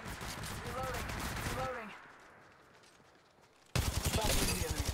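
Automatic gunfire in Apex Legends Mobile, loud rapid bursts that fade into a near-silent pause before another sharp volley erupts close up, with a voice speaking over the start.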